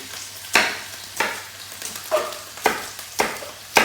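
Sliced spring onion sizzles in a hot pan during asparagus salad preparation, with six sharp, bright bursts of frying spaced about half a second apart over a steady background hiss, close and fairly loud, no voices.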